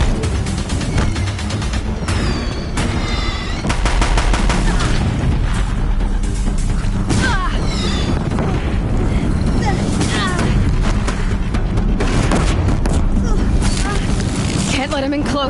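Deathbringer war machines fire in the video game Horizon Zero Dawn, producing a loud, continuous barrage of booming blasts and mechanical clatter that barely lets up, with voices faintly mixed in.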